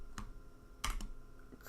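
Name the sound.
typing on computer keyboard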